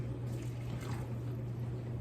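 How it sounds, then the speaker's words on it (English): Water runs steadily into glass canning jars packed with raw chicken, a continuous close trickle and pour under a low steady hum, with no talking. "you might have to add more water in them"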